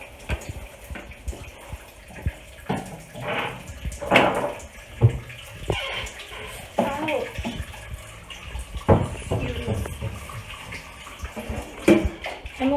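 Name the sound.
tap water running while washing hands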